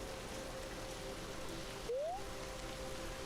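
Steady rain in the video game Megafactory Titan, a constant even hiss of falling drops with a brief rising electronic tone partway through, moderately loud.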